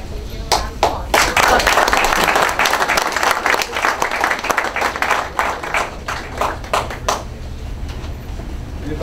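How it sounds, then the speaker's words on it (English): A morning political party breakfast audience breaks into loud applause, dense clapping that thins into scattered claps, with some voices heard underneath. "Please give him a round of applause."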